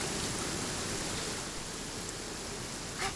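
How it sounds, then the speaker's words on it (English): Steady broadband rain hiss fills the scene in Genshin Impact, a continuous even wash of falling rain with a faint brief rise near the end and no voices. "Where'd this rain come from?"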